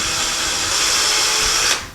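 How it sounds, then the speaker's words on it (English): A power drill with a 1/16 inch bit bores light pilot holes into a wall for a towel bar, a steady high whine running close and loud for nearly two seconds before cutting off abruptly. "we're going to take a 1/16 inch drill bit, and we're going to drill those holes very, very lightly"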